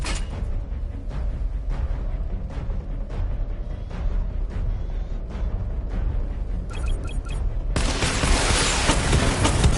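In Batman Arkham Knight, a missile barrage fires as a loud rapid string of booming launches and blasts, with a dense burst of explosions building toward the end.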